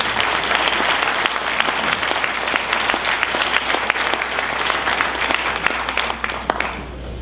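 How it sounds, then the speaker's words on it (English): An audience at a 2013 Jersey City Heights mayoral forum breaks into sustained applause, a dense, steady wash of many hands clapping that fills the room for about seven seconds before tapering slightly at the end. "Please, everybody, give a round of applause for Dr. Abdul Malik."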